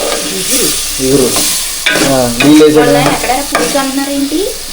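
Ridge gourd and prawn curry with turmeric and chili powder sizzling as it is stirred in a pan. A voice talks over the frying, and the close scraping and bubbling carry on beneath it.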